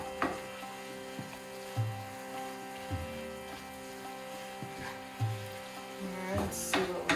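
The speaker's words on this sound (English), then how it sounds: "So, give that a stir." A radish stir fry is stirred in a pan after soy sauce goes in, with soft scrapes and knocks of the utensil over a faint sizzle and a low background hum.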